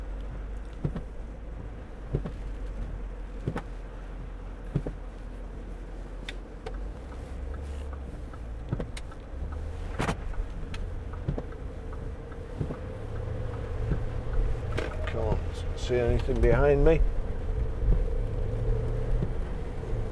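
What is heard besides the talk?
2011 Range Rover 4.4 TDV8 Vogue SE driving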